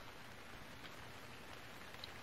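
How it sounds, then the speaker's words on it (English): Steady rain in the survival video game Stranded Deep, a faint, even hiss of falling drops with no pauses, quiet and alone. "The rain is very loud."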